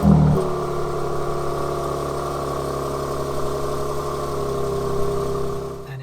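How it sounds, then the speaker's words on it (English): A Mercedes-AMG performance car's engine fires up on a cold start with a short loud burst, then settles into a steady, loud, droning idle that holds for several seconds, close by and with no talking. "when you start your car first thing in the morning, a performance vehicle, you'll notice that upon startup it's louder than normal"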